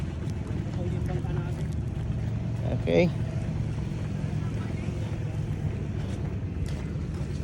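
A boat's engine drones on the water near Dingalan, steady and moderately distant beneath wind buffeting the microphone, with a short word spoken midway.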